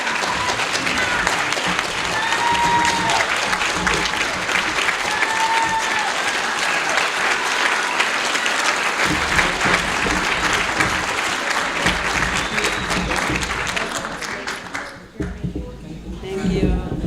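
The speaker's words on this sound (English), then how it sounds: "Why don't we give one more big round of applause for all of our 5 awardees." A crowd claps for five community awardees at a local ceremony, sustained loud applause with occasional whoops and voices, thinning out near the end before a brief lull and a final burst.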